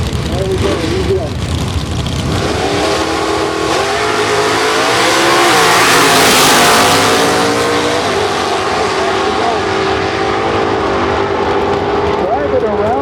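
A nitrous-fed outlaw street drag car idles and revs loudly nearby as it backs up to the staging beam at a drag strip, a steady engine drone swelling mid-clip with a crowd-like wash and an announcer's voice over it.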